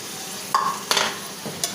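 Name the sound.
baim eel fish frying in spice paste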